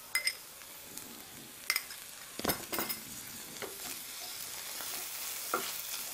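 Chopped capsicum and tomato sauté in a pan with a soft, steady sizzle, punctuated by several sharp clinks and scrapes of a spoon stirring against the pan.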